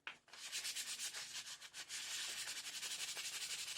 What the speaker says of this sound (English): With a nice brisk rubbing.